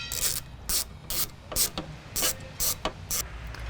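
A hand ratchet backs out a Torx bolt while a fuel tank is removed from a 2007–2018 Mercedes, making a regular series of loud, close rasping clicks about twice a second.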